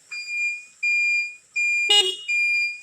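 A 2019 TVS Wego scooter horn beeps four times in short, even bursts, loud and close, with a brief clunk between the third and fourth.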